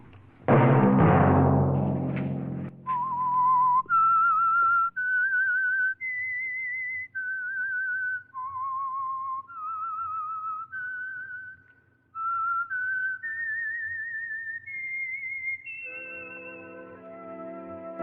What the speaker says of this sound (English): Let that whistle be your signal for the Whistler